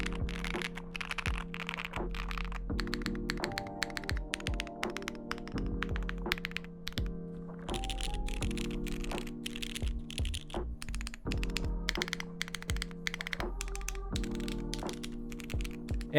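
A $130 Cycle 7 custom mechanical keyboard with MX Black switches on an aluminum plate, no foam, is typed on in a continuous stream of crisp, clacky keystrokes that are close and steady, with no voices.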